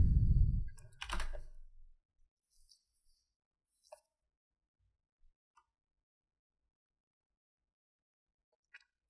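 Computer keyboard being typed on at close range, a short cluster of quick keystrokes at the start followed by sparse isolated clicks and taps in an otherwise quiet room.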